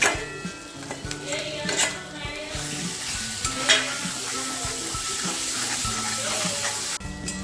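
Mutton pieces frying in a spice masala, a close sizzle with repeated stirring scrapes and clinks of a utensil against the pan throughout, no speech.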